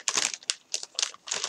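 Thick plastic bag wrapping the parts of a 1/72 Azur Supermarine Sea Otter Mk II model kit crinkles close by in several brisk bursts with short pauses between them.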